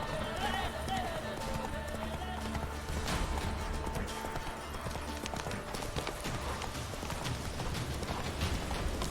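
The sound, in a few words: horse Roach running in video game The Witcher 3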